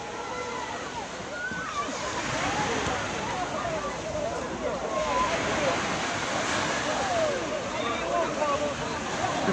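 Sea waves washing on a beach, a continuous loud rushing surf wash with crowd voices and chatter mixed in underneath.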